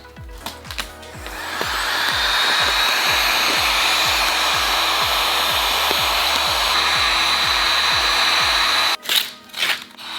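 A heat gun blows steadily on carbon fiber vinyl wrap being applied to BMW interior trim, a loud, close whooshing roar with a low rhythmic motor pulse, cutting off near the end followed by a few handling noises.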